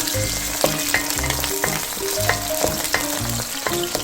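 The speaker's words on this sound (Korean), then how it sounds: "대파 흰 부분을 먼저 넣어가지고 파기름부터 내주겠습니다" White parts of green onion frying in hot cooking oil and perilla oil in a pan, a loud, close, steady sizzle with crackling pops and a few utensil scrapes, no voices.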